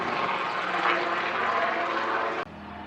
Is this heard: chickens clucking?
no